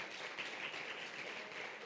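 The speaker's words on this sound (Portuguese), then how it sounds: "pode aplaudir" A church congregation applauding during a Portuguese-language service, soft, even clapping from many hands at a distance, heard faintly.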